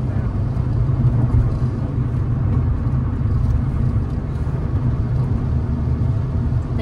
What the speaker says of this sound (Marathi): मी जरा क्रूज मोडवर टाकत आहे गाडी